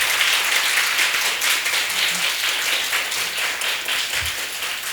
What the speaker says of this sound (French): Applaudissez très fort pour vous-même.